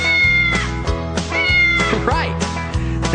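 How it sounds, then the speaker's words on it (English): A cat meows repeatedly, several loud, close, drawn-out calls in quick succession over a steady rhythmic musical backing from a children's farm animal song. "Right, the cats go"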